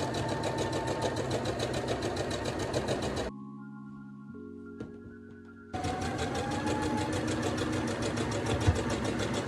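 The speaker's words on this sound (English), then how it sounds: "I pinned and sewed the 3 curtains" A sewing machine stitches curtains for a bus conversion in a steady, loud mechanical whir, cutting out for a couple of seconds mid-clip before running again at full speed.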